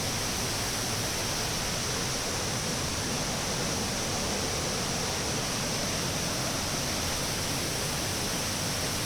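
A small New Hampshire waterfall rushes in a dense, steady broadband roar, constant and close, with no other sounds standing out.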